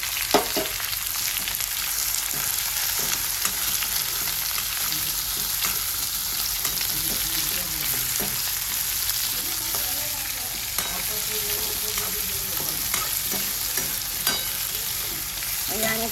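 Onion and capsicum sauté with ginger-garlic paste in a pan, giving a loud, continuous sizzle close by. Stirring scrapes come through now and then, and there is no talking.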